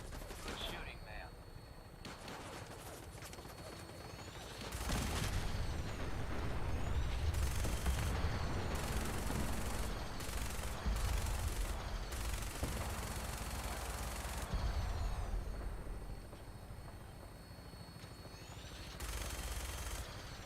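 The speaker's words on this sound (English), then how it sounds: "Minigun should be loaded and ready to fire." A minigun in Fallout 4 spins up and fires long sustained bursts, a dense rattling roar that starts abruptly and stops and starts again, with game voices speaking around it.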